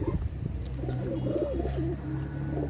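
Teddy pigeons for sale coo in a low, continuous, rolling murmur close by, with a steady background hum beneath.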